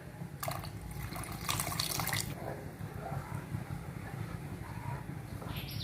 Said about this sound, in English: add the water which we kept aside